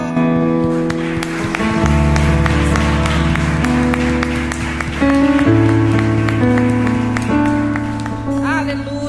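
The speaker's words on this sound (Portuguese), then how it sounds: "Aplauda o nome do Senhor." A church congregation claps along while sustained organ or keyboard chords ring out loudly, the sharp hand claps riding over the music with some voices mixed in.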